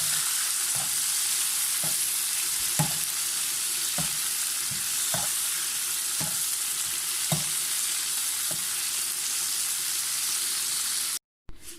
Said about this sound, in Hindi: अब इसका पानी सूखेगा, बस 2 मिनट तक मैं फ्राई करूँगी